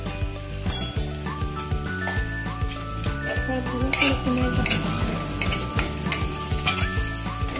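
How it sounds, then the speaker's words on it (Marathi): Onion sautés in a pan with turmeric, a crackling sizzle broken by frequent metallic clinks and scrapes of a spoon stirring against the pan, close and busy, with some talk in the background. "आता कांदा चांगला परतलाय, त्यात आपण थोडी हळद घालू।"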